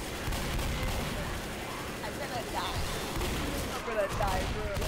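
Gunfire from the Left 4 Dead video game during a zombie horde fight, dense and continuous with repeated shots under constant loud game noise and overlapping voices of players talking.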